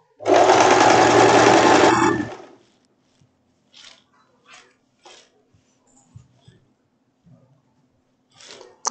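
A sewing machine stitches bias binding onto a dress neckline in one loud burst of about two seconds, followed by quiet handling noises and short faint clicks.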